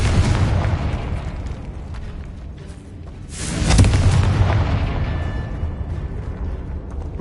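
Fiery Confringo spell explosion in Hogwarts Legacy, a deep rumbling blast swelling midway over continuous low roar, loud and close with no talk.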